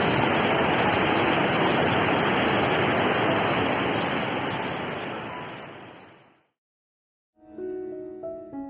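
Loud, steady roar of a waterfall crashing down, continuous broadband rushing that fades out near the end, followed by brief faint tones.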